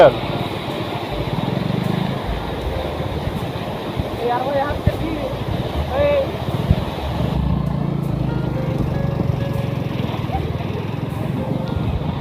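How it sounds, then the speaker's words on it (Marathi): A fast, swollen stream rushing during heavy rain, a loud continuous broadband roar of water with steady turbulence throughout, and a few faint tonal sounds partway through. "हे बघा ओढा असा वाहतो आहे काय वेग आहे ओढ्याला"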